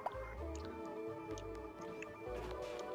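Water drips and squishes with gurgling trickles in Oxygen Not Included as a base floods from melting ice, a faint, wet, irregular pattern of drops over low bubbling.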